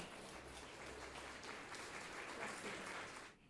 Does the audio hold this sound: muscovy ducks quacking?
no